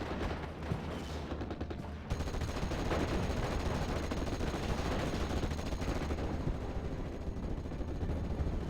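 Dense, continuous gunfire and rumbling explosions in a World War II strategy game battle between 6th Airborne and 352 Infanterie forces, with an IG-88 suppressing a Tetrarch tank, forming a loud, unbroken wall of combat noise throughout.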